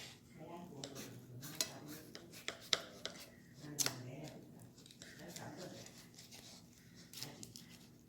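A quesadilla is cut on a plate with several short scraping, crunchy cutting strokes and clinks of cutlery, while a person talks nearby.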